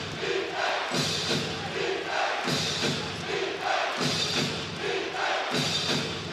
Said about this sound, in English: Crowd trying to urge the Lioneers to a defensive stop.